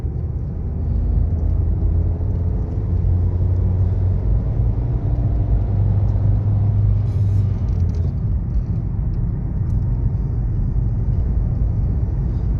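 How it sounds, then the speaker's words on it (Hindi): A car engine during a driving lesson, a steady low rumble that rises slightly as the vehicle speeds up, heard from inside the cabin with no talking. "हाँ, तेज करो गाड़ी।"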